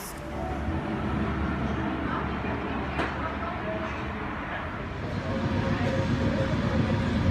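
Mountain commuter train rumbling into a station, a steady low roar with metallic rail noise building toward the end, moderately close.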